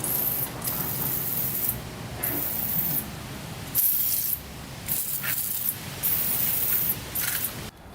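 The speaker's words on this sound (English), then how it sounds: "We could lube up the chain a little bit here." Aerosol lubricant hisses onto a rusty chain on a Honda 250X motorcycle in repeated bursts of about a second each, separated by brief pauses, close and steady.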